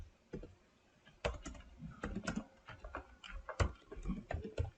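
Someone types code on a computer keyboard, the keys clicking in quick irregular bursts with short pauses between runs, close and fairly quiet.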